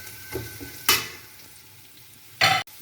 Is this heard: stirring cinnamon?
yes